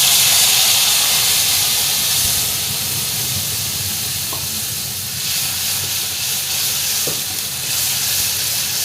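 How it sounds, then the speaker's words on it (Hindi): Tomato puree sizzles and hisses steadily after going into a hot kadhai, a dense, close frying sound with faint stirring clicks and no voices. "तो मैं अब कढ़ाई में ये प्यूरी डाल रही हूँ टमाटर की।"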